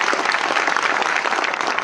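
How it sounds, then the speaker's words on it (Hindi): Enthusiastic applause from a crowd at a student award ceremony, dense continuous clapping throughout at steady loudness. "एक बार जोरदार तालियां होनी चाहिए।"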